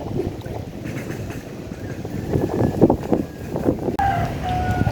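Strong wind buffets the microphone outdoors, a loud, uneven low rumble that surges and drops in gusts, with a brief thin whistling tone toward the end.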